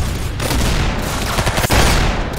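Dense bursts of rapid gunfire from the Roblox game Arsenal crackle loudly and continuously, overlapping shots in a busy firefight with no talk.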